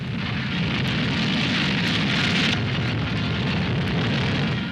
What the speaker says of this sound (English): At White Sands, New Mexico, the huge missile takes off.